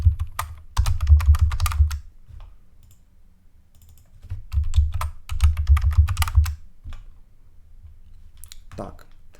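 Bursts of typing on a computer keyboard, close clicking keystrokes in two main runs with pauses between, with someone speaking intermittently over and between them.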